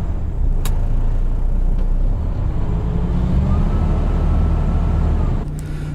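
A 2007 MAN TGA truck engine running while the truck drives, a loud steady diesel drone with a rising whine under it, a couple of brief clicks, and the engine note dropping near the end.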